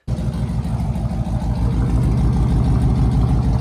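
A car engine with a straight-pipe exhaust, its cats and mufflers deleted, idles loud and close with a steady, throbbing low rumble.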